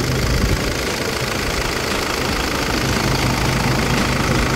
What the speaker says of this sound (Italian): Sentiamo un po' girare il motore.